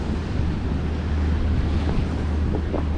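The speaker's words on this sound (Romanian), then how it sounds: "Am vrut să prind și valurile. Uite ce valuri." Sea waves roll onto the beach at Constanta, Romania, a steady broadband wash with heavy wind buffeting the microphone and a low rumble throughout.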